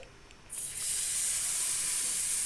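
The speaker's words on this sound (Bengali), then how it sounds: "এখন সমস্ত ডালটা ঢেলে নিতে হবে। তো ধীরে ধীরে আমি ঢেলে নিচ্ছি।" Lentil dal poured into a hot vegetarian tempering for bottle gourd (lau) dal, bursting into a loud, steady hiss and sizzle about half a second in that keeps going with no talk over it.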